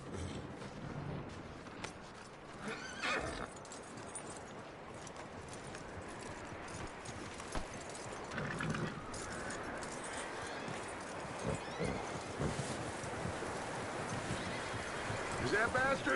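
Horse in Red Dead Redemption 2 clops its hooves and whinnies amid outdoor game ambience, with muffled speech in the background.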